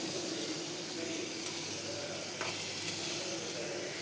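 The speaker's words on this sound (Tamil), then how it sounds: "இந்த மாதிரி நல்லா நம்ம உருளைக்கிழங்கை போட்டு கொஞ்சம் நேரம் எண்ணெயிலே அப்படியே வதக்கி விடலாம்" Potatoes frying in oil in a pan: a faint, steady hiss and sizzle that holds evenly throughout, with one brief soft tap partway through and no voices.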